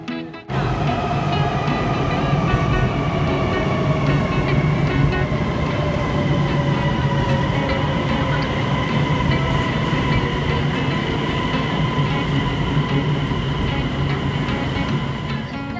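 Interior of a high-speed bullet train running from Xiamen to Chaoshan: a loud, steady rumble of wheels and carriage with sustained tonal whine, continuous and close throughout, with no talk.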